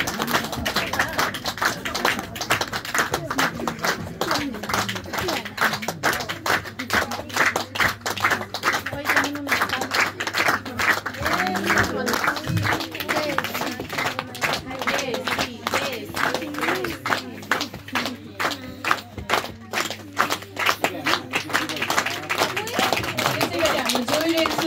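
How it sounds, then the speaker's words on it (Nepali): Rhythmic group clapping at a Christmas church program in Nepal, keeping a steady, even beat without a break while a voice sings or speaks over it. "ताली चाहिँ बजाइदिइराख्नु है।"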